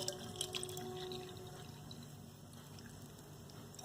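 Water drips and trickles from a filled 1-litre can, a faint, close, uneven patter with a few brighter drops early on, heard alone without speech.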